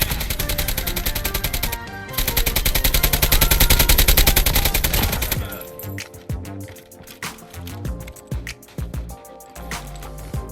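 Rapid automatic gunfire from a PKM-class gun in Call of Duty Mobile, a sustained loud burst for about five seconds, then scattered single shots and clicks at lower level.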